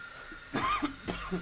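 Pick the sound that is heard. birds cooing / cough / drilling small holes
cough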